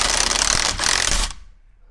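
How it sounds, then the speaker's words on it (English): A pneumatic impact wrench loosens the steering wheel bolt on a C8 Corvette. Two loud bursts of harsh, rapid hammering come up close, with a brief pause between them, before the tool spins down into quiet. "See if the impact wrench can get this thing out a little faster."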